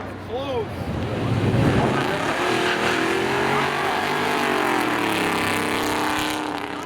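Race cars, including a Subaru, roaring at full throttle at Seekonk Speedway during Independence Day spectator drags, engines sweeping past loud and close with rising and falling pitch, under excited announcer commentary over the speakers.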